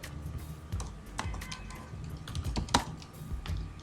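Keys on a computer keyboard are tapped in quick, uneven bursts of clicks while a company name is entered in accounting software, close and clear with a faint background hum and no speech.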